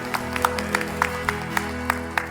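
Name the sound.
congregation applauding in church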